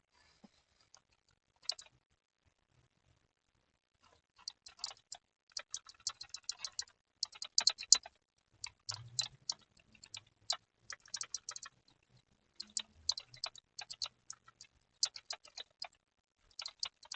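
Comments typed on a computer keyboard: irregular bursts of crisp, close key clicks and taps in quick runs, separated by short pauses, with a quiet room behind and no talking.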